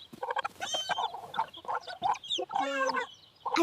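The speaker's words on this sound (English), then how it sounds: "Oh, look, a hen!" Cartoon hen clucking nearby in a quick run of short, throaty calls, a few louder squawks mixed in, with no other sound around them.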